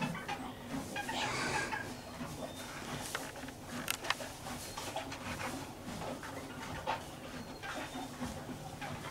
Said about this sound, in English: This little tiny chicken comes and lays her egg in Silhouette's hay every day.